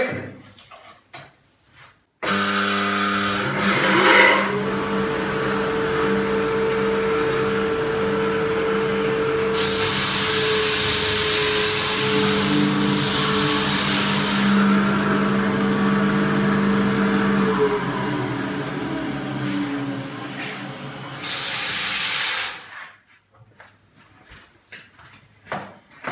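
A single-disc parquet floor sanding machine runs with a steady droning whir and grinding hiss for about twenty seconds, with brief surges of harsher noise, then shuts off.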